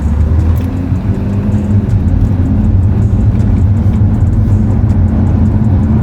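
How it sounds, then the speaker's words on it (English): An F30 BMW 335i with a flashed ZF 8HP eight-speed automatic accelerating in third gear, giving a loud, steady low engine drone from inside the car. "Do my first little acceleration here."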